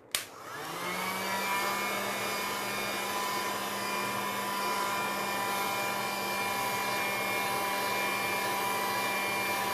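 A hair dryer blows air steadily to dry a mixed media altered MDF panel, a close, constant whirring roar that starts abruptly and runs alone without talk.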